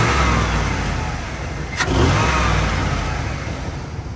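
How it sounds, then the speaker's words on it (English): A 2001 Chevrolet Tahoe engine after maintenance, revving with air intake noise: a loud, close mid-pitched engine drone that swells in one short rev partway through, then settles back to a steady run, with no talking. "You can kind of hear the air intake right there"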